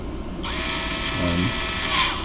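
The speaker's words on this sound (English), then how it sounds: "These are tiny screws. I don't want to strip them out, so when it bottoms, I just let it spin." A small electric screwdriver with its clutch on the lightest setting drives tiny screws, a high whirring spin that starts abruptly and keeps running, with a brief rattling ratchet of the clutch slipping midway.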